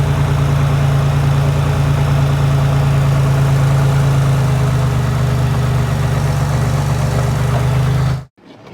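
A car engine runs loud and steady with a strong low hum throughout, after being cranked with a JFEGWO 6000 amp jump starter, then cuts off abruptly near the end.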